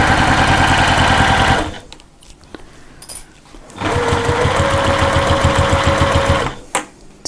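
A sewing machine stitches around the edge of a wallet in two loud, steady runs of fast rhythmic whirring, separated by a short pause with light handling clicks.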